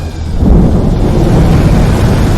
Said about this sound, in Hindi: बारिश शुरू हो चुकी थी